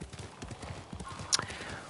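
Horse hooves clip-clopping in a steady trotting rhythm in the samurai video game Ghost of Tsushima, close and moderately loud, with a brief sharp higher sound near the end and faint voice-like bits in the mix.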